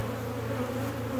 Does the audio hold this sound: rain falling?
no